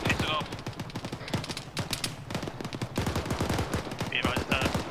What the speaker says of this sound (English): I swear that's enemy fire coming from the other side of these rocks to our east.